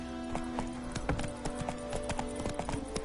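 Horse hooves clip-clopping in The Witcher 3 video game, a steady close rhythm of hoof strikes on the ground running through the whole stretch over a quiet ambient bed, with no talking.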